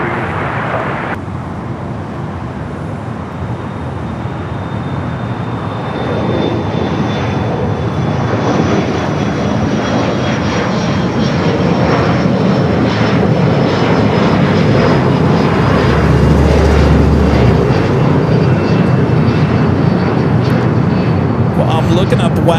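An airliner takes off from runway 25 right at Los Angeles International Airport: a loud, continuous jet roar that builds and swells over many seconds, with a faint rising whine and distant traffic beneath.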